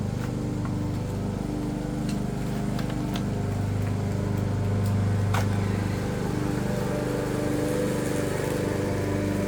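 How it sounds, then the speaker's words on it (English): A lawn mower engine drones steadily at close range, a continuous low rumble with a brief swell in the middle, going back and forth over one patch of grass. "She's mowing the same spot 100 times."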